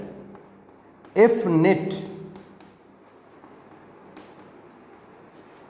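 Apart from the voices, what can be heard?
writing on a board during a physics lecture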